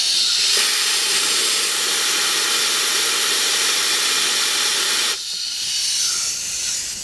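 Compressed air blasting old oil out of a Velvet Drive marine transmission part, a loud continuous hissing rush lasting about five seconds before cutting off, then quieter air noise.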